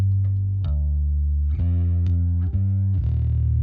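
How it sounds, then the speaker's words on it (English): A low, thick electric guitar plays sustained chords that change every second or so, with a shimmering, doubled chorus effect and slight distortion. "Got a little bit of a chorus effect going on."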